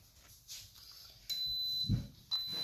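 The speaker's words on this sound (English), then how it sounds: "Okay, so now it beeped 3 times." A high electronic beep from an Instant Pot pressure cooker sounds twice as sustained tones over a quiet, hissy background.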